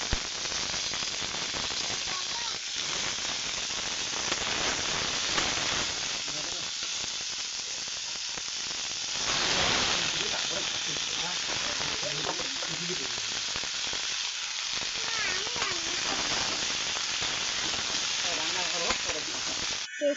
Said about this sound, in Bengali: বেগুন ভাজা আর মাছ দুটো ছিল, ওটা ভাজছি।